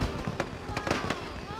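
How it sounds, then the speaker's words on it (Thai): Fireworks display in the video game Planet Coaster: a run of sharp bursts and crackling pops at uneven intervals, fairly loud, with someone talking over them. "เราได้เพิ่งติดตั้งพลุไปนะครับโอ้โหอลังการมากแต่ละคนดูยืนดูพลุนะครับ"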